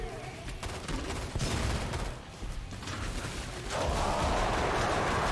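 Rapid bursts of video game gunfire in Killing Floor 2, sharp repeated shots layered over a rumbling background, loud and continuous with brief lulls.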